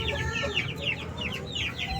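Free-range backyard chickens cluck and chatter continuously at close range while being fed, with overlapping rising calls from several birds over a steady low rumble.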